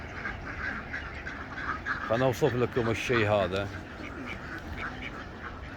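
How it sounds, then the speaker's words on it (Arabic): Egyptian flying ducks kept in a backyard flock quack loudly in a rapid, close burst of calls, with someone talking over and around them. "هذا بط طيار ومصري"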